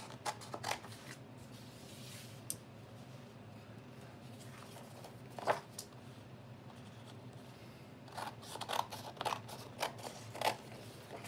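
Paper pieces glued to a file folder are cut out roughly by hand with scissors, giving a few sparse, quiet snips at first and then a faster run of crisp cuts near the end.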